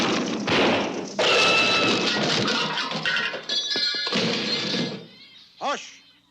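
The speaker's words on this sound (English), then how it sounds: "Twig snap." A twig snap is rendered as an absurdly loud sound effect: a chain of heavy thuds, smashing crashes and rumbling, ending in a short descending whistle-like tone.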